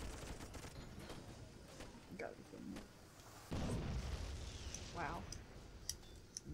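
Gunfire from the Toy Soldiers video game crackles in scattered bursts with occasional booms, sitting under a person talking over the game mix.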